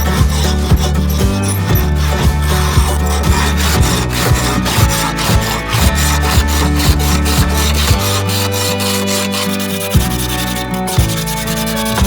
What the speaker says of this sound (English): I'm gonna try scraping the paint off first